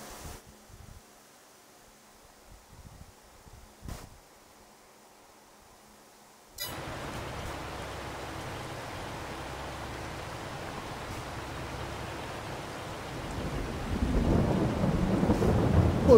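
Rain and rumbling thunder in Farming Simulator 22: a few faint low thumps over near-silence, then a steady rain hiss sets in and a deep rolling thunder swells toward the end.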